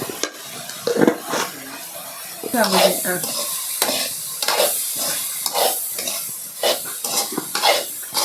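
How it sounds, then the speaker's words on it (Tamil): Chili powder and coriander powder fry and sizzle in a pan for a village-style brinjal and green field bean kuzhambu, while a spoon scrapes and stirs in repeated close strokes over the steady hiss of hot oil. "இப்போ தனி மிளகாத்தூளும் மல்லித்தூளும் போட்டு கிண்டியிருக்கோம்"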